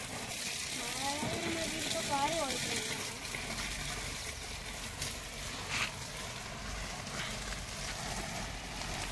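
Water is poured onto Dracaena plants in a garden, a steady gushing splash throughout, with a voice briefly audible early on beneath it.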